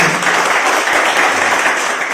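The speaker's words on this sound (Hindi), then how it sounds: "ऐसे हमारे देश के प्रधानमंत्री नरेंद्र मोदी जी के लिए ताली हो जाए।" A crowd at a political speech in praise of the prime minister applauds loudly, dense steady clapping filling the whole stretch without a break.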